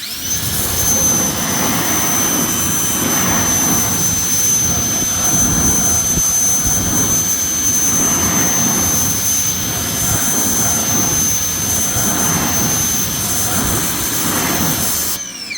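Water spray rinsing car wheels during a full detail, a loud, steady rushing hiss that runs unbroken from start to finish, close by, with no talk over it.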